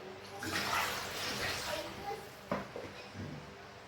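Raw chicken feet being rinsed and scrubbed in water for a Jamaican dish, with steady splashing and sloshing close by and a few sharper knocks near the end.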